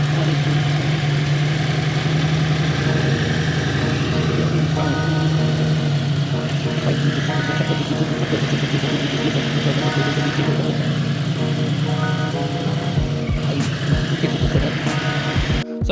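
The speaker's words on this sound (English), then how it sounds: "you could see and visibly see and hear the RPMs drop and change" Motorcycle engine idling with an intake air leak, a steady close mechanical hum whose speed dips and wavers when cleaner is sprayed at the intake, ending with a few sharp clicks.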